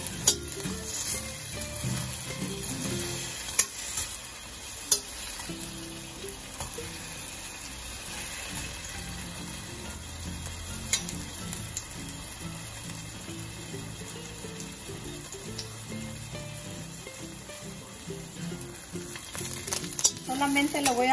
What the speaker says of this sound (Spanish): Voy a freír la mitad de una cebollita